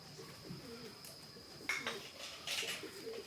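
Racing homer pigeons cooing close by, soft throaty coos repeating over a faint background hiss, with a couple of brief clinking sounds.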